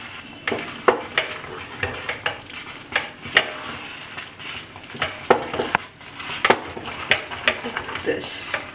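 A spoon scraping around a pan of creamy risotto with cream and milk, stirred in steady, close, regular strokes over a soft bubbling sizzle, with faint clinks against the pan.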